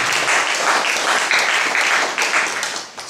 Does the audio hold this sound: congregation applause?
yes